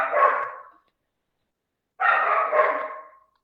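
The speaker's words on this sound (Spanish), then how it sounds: "Ese es mi perrito." Small dog barking indoors, one short bark burst, then a pause, then a longer double bark, close and fairly loud with silence in between.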